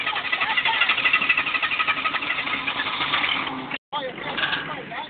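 An engine being revved hard, giving a steady, loud, close roar that holds for about four seconds, breaks off briefly, then returns, with voices talking over it.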